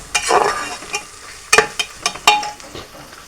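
Whole spices, cinnamon and white cardamom, dropped into a hot pan of oil, giving a few sharp sizzling bursts and scraping stirs amid a soft background hiss.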